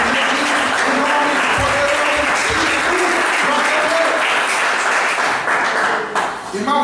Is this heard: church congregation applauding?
yes